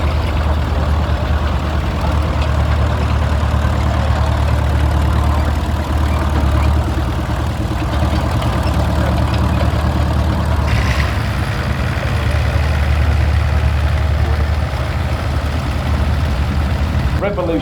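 A vintage tractor engine idles steadily at close range at a steam rally, a deep continuous chugging throb that stays even throughout.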